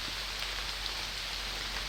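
Steady outdoor rain patters along a woodland path during a hunt, a dense, even hiss of drops that holds unbroken throughout with no other sounds standing out.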